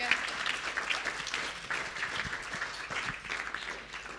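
Audience applause at a youth work awards ceremony, a steady, sustained patter of clapping across the hall at moderate level, fairly distant and even throughout.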